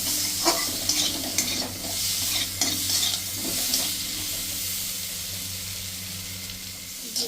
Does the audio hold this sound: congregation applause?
no